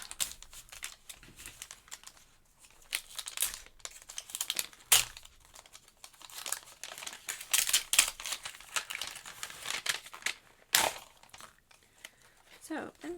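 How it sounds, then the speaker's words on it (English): A paper envelope opened and rummaged through during a craft-box unboxing, giving close crinkling, rustling and tearing paper sounds in irregular bursts, with a few sharper crackles. "let's look at what's inside our envelope."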